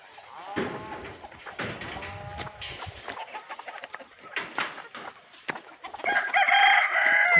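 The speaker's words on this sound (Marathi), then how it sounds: "तर मित्रांनो हे आहेत आपले गावरान पक्षी." Free-range desi village chickens on a farm, with a rooster crowing and hens calling in repeated bursts, fairly near, and a louder crow rising toward the end; a cow's moo may sound faintly in the background.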